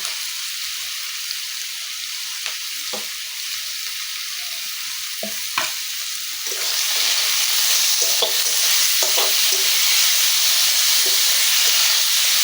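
Onion and garlic fry in a pan for a Bengali mushroom curry, starting as a quiet, steady hiss with occasional stirring clicks, then swelling midway into a louder, fuller sizzle.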